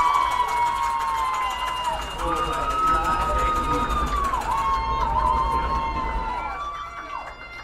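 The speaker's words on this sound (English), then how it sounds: "The crowd was cheering" A crowd at a varsity soccer game between RC Christian and Belle Fourche cheers for what looks like a goal, a loud sustained roar with a rising whistle-like tone running through it and a commentator talking over the top.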